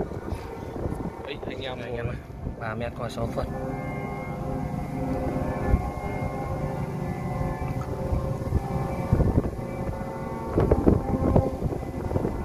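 Strong wind buffets the microphone outdoors, gusting rumble and roar throughout while someone speaks over it.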